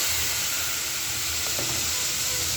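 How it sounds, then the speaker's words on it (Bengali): Ground spices including turmeric, cumin, chili and coriander frying in oil in a pan, a loud steady close sizzle that holds evenly throughout, with no talk. "মশলাটা দিয়ে দিলাম, মশলাটা এবার একটু কষায় নিই"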